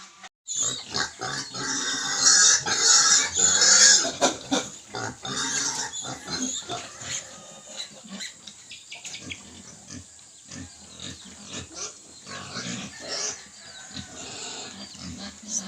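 Native pigs on a farm grunt and squeal loudly and repeatedly at close range, with the noisiest burst early and scattered grunts continuing throughout.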